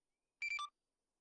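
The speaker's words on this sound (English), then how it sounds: "My phone is making noises." A phone gives a quick, isolated burst of two or three electronic beeps, clear and close, against near silence.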